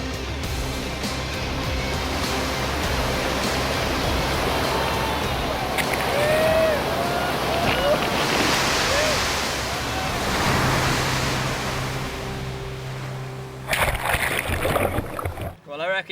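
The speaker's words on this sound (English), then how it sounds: "Now it's time to try to surf these waves." Rough surf crashes and churns around a kayak at the Bitches tidal race, a loud continuous roar of breaking waves and rushing water with wind buffeting, ending in a burst of splashing.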